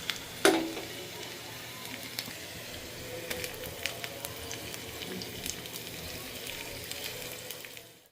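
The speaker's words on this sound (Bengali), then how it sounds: "আজকে যে সিম্পল আপনার পেঁয়াজ আর রসুনের ফোড়ন সেটাই দিব" Chopped onion and garlic hit hot oil for a dal tempering, with a sharp splash at the start and then a steady, gentle sizzle and crackle that runs close by until it cuts off at the end.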